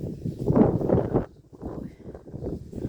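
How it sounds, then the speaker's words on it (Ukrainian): Low, blustery wind buffets the microphone outdoors in a garden in rumbling gusts, nearly drowning out everything else, then eases to a softer rustle. "Ой, який вітер забиває."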